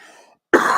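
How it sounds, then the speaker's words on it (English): One sharp, loud, close cough bursts out abruptly after a brief silence, preceded by faint tonal sound. "My cough is bad."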